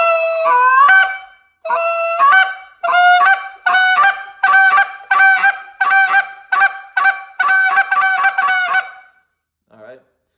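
Rapid rolling spit notes on a goose call, a string of short sharp honks in quick succession, loud and close, ending with a brief pause.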